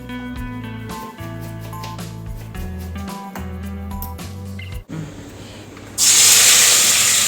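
Hot oil sizzles in a pan while Kenyan ugali and sukuma are cooked, a loud, bright hiss bursting in suddenly near the end after a stretch of music.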